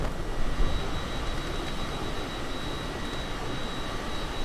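Cessna Citation CJ4 jet engine in the flight simulator MSFS 2020, a steady, even broadband roar with a thin high whine running throughout, constant in level and without talk.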